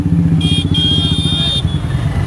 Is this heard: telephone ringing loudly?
no